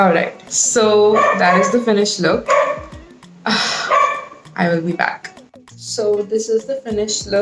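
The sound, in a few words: dog barking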